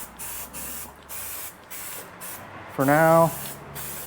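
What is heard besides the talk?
spraying protectant on a Ford FE engine block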